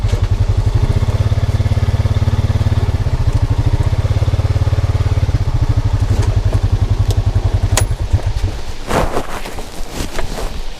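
A side-by-side UTV engine idles and runs close on a wooded trail in a low, rapid, throbbing drone that holds steady for about eight seconds and then drops, leaving rough clatter, wind noise and brief knocks.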